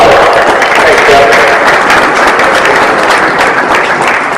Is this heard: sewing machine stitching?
no